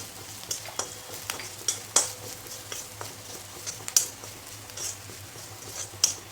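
Turmeric is stirred into hot oil tempering for a fried poha chivda, giving a steady close sizzle with sharp crackles and pops and light scraping from stirring.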